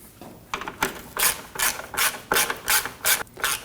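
A ratchet clicks in short rapid bursts while snugging down valve cover screws on a 2.5L H4 Subaru Baja engine, close and distinct with brief pauses between strokes.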